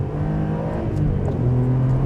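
Ferrari 575M V12 revving hard under acceleration, a loud close engine note climbing and shifting pitch continuously for a couple of seconds with no talk.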